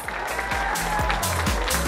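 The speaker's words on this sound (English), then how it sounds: "Round of applause." Applause from a convention audience at an anime event walk-on, a brief burst of clapping mixed with crowd noise and some thumping under a speaking voice.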